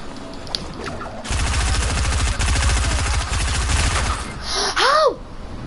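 Rapid automatic gunfire in the video game Fortnite, a loud sustained burst of shots lasting a few seconds, followed by a short electronic swooshing effect.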